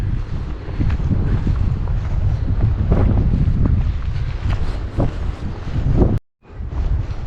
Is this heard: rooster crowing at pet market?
no